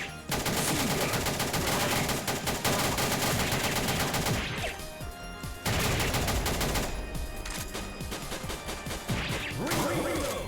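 Loud, rapid machine gun fire in a Christmas-themed indie shooter, long sustained bursts with brief pauses around the middle and near the end, plus scattered crashes and mechanical clatter.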